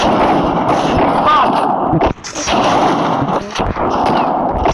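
Loud, continuous gunfire from a shooting video game fills the clip, with heavy booming shots and a brief drop near the middle.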